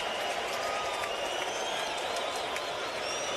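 Baseball stadium crowd cheering as the fans start a wave during a Yankees versus Astros game, a continuous distant roar of many voices with scattered clapping and whistles, steady and without a break.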